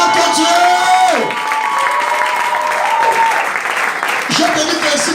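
A church congregation claps and cheers loudly in a sustained burst of applause, mixed with whoops and shouting voices, for several seconds.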